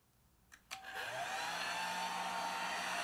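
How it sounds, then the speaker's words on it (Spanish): A steady electric whir of a hair dryer switches on after a couple of brief clicks and runs loud and constant to the end. "El sonido del efecto del secador de pelo"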